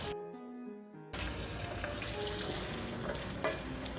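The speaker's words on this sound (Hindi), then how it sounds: "टमाटरों को हम 1 से 2 मिनट फ्राई करेंगे इसी तरह से।" Minced meat and chopped tomatoes fry in a pan for a bitter melon and mince dish, a steady loud sizzle with occasional stirring scrapes, following a brief stretch of soft music at the start.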